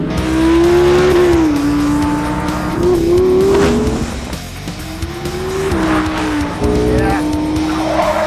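An Audi R8 sports car, 610 brake horsepower, driven hard on a winding circuit, its engine howling up and down through the gears as the tyres squeal loudly through corners, with a brief word spoken over it.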